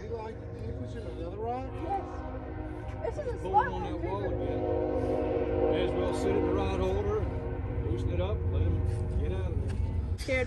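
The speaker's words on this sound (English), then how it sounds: "We got the train going by." A train rolls past near a seawall with a continuous loud rumble and a high squealing, whining tone that rises and falls. People talk over it.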